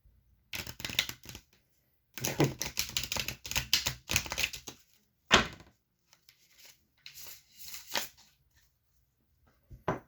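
Crisp bursts of tarot cards being shuffled, several rapid riffles separated by short pauses, close and fairly quiet with no talking.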